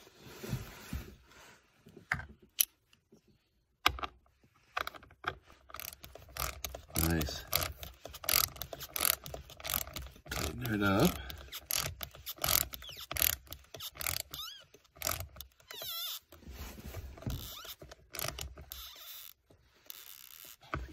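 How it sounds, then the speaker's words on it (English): A ratchet wrench clicks in quick, uneven runs while working on the ignition lock cylinder of a 1996 GM Buick, close and fairly quiet, with pauses and shifting metallic clatter between turns. "Take the ratchet."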